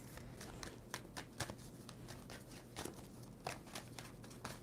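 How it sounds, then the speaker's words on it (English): A tarot card deck being shuffled by hand: repeated crisp riffling and flicking bursts in an irregular rhythm, close and fairly soft, with no speech. "Two more shuffles for Pisces."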